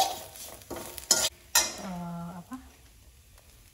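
Ingredients being stirred and sautéed in a pan for coto makassar: scraping stirs and clinks of utensil on pan over a faint sizzle, with a short voiced sound in between.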